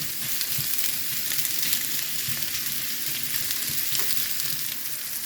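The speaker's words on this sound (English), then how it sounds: "we're just going to brown these a little bit." Meat browning in a frying pan gives a steady, close sizzle and crackle that runs unbroken throughout, with small pops scattered through it and no talking.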